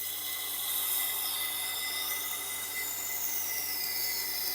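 A Wüsthof knife blade held against a spinning Tormek grinding wheel gives a continuous bright, hissing grind with a faint sweeping whine, close and steady for several seconds with no voices.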